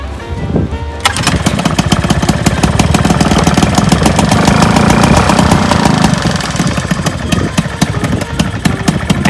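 A 23-year-old outboard motor roars to life after a pull start, kicking in abruptly and settling into a loud, steady, rattling run close to the listener.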